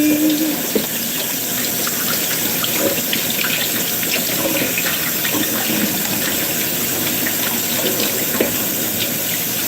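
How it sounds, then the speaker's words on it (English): Kitchen tap running steadily to rinse cooking equipment, a continuous close splashing gush into the sink with small clatters, no voices. "Let's rinse our equipment immediately."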